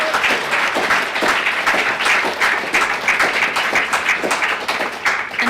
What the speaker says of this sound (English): so please give a loud cheer to them